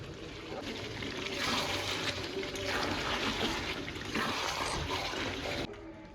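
Rose water is poured into a jackfruit biryani as it is being prepared: a soft, steady trickle of liquid running for several seconds, then stopping abruptly near the end.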